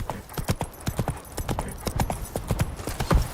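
Roach, the horse in The Witcher 3, gallops in a fast, steady clip-clop of hooves, close and continuous under faint game ambience.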